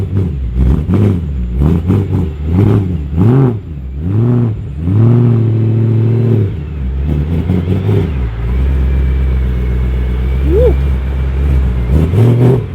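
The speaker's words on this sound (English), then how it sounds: "You're driving the most expensive BMW M3 in the world right now." A BMW M3 sold as the world's most expensive, at $300,000, revs loudly while being driven. The engine climbs and drops through several pitch sweeps, then settles into a steady droning cruise, close and dominant.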